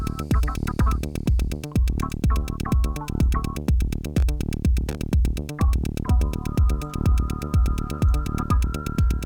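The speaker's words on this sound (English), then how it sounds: "It is a kind of high-frequency clipper" A loud, close drum loop run through a high-frequency clipper plugin, an edgy clipping effect, pounding kicks and bright crunchy hits repeating in a steady rhythm, no voices.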